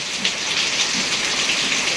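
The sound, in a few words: rain falling in a village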